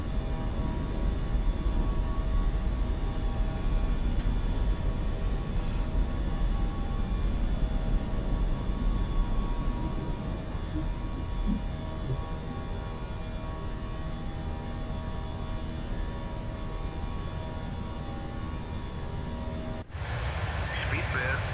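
Airliner engines roaring during a takeoff in a flight simulator on an Ibiza to Heathrow flight in extreme winds, a steady loud broadband rumble with tonal whine that eases slightly midway, then drops abruptly near the end.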